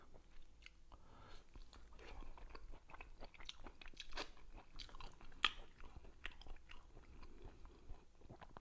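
A man chewing boiled fatty pork belly dipped in soy sauce, with soft wet bites and mouth sounds in an irregular rhythm, close but faint, no talk.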